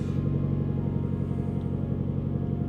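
A Nissan Pulsar GTiR engine idles close by, a steady, loud, low rumble with an even rhythmic pulse and no voices.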